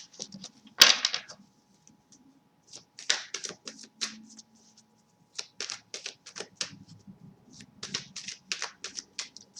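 Tarot cards are shuffled by hand at close range, with rapid rustling riffles and dry flicks coming in uneven clusters. A sharp snap sounds near the start.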